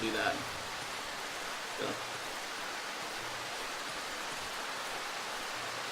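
Steady rain hisses evenly in the survival horror game Darkwood, a soft, continuous wash of falling water, with a brief spoken word near the start.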